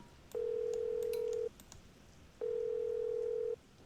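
Telephone ringback with no answer in the Nancy Drew: Danger by Design game: two long, steady electronic tones, each about a second long, separated by a pause, clear and alone over a quiet background.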